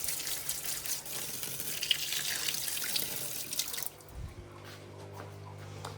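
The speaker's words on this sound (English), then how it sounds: "fill up the water as well for the coffee machine" A kitchen tap runs in a steady hiss to fill a coffee machine's water tank, close and even, then is shut off, leaving a low hum and faint clatter.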